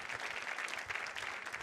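Audience members at a school fundraising event applaud donor families, a soft, distant, continuous patter of many hands clapping with no voices above it.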